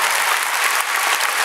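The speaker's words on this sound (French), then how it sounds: "que j'aimerais que vous applaudissiez" Audience applause fills a large concert hall during speeches at a Bercy rock opera event, a dense, steady wash of many hands clapping close and loud with no voices over it.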